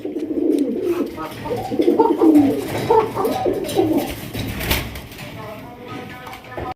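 Pigeons coo in low, throaty bursts at close range, with a soft rustle and a few clicks partway through.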